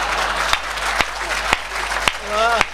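Audience at a Hindi comedy poetry show (hasya kavi sammelan) applauding, a dense sustained wash of clapping from a large crowd with a few sharper claps standing out and a voice briefly rising over it.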